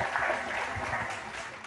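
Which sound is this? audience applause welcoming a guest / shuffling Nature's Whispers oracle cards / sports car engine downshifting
audience applause welcoming a guest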